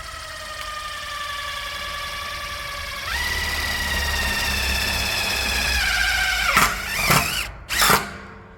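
A driver sinks self-tapping sheet metal screws into a repurposed scrap raised garden bed. A whining motor holds a steady pitch, steps up partway through, then ends in a few short bursts as the screw seats.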